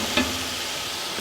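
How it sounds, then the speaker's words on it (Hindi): Steady sizzling of mutton frying in a pan, with a brief sharp hiss near the start as a splash of water hits the hot surface. "हम इनमें पानी का छिंटा लगाएंगे"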